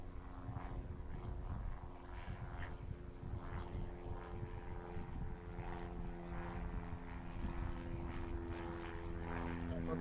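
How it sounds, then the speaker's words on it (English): An aircraft takes off from runway 13 at an airport, a steady droning engine roar with a low hum that stays even and moderately distant for the whole stretch. "whatever that is taking off on 1-3"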